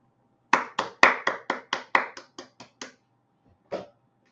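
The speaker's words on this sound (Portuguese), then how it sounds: "Palmas para você." A single person clapping hands about ten times in a quick, fairly even rhythm, sharp and close, then a short pause and one last clap; quiet room, no talk.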